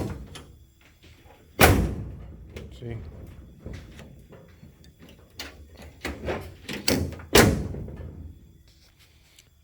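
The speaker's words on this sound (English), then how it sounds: "I have the door handle installed and operational" Metallic clicks and clunks of a newly installed door handle and latch on a 1983 Chevrolet El Camino being worked several times close up, with a person speaking briefly.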